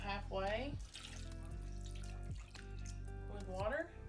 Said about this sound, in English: Take your soup can and fill it up about halfway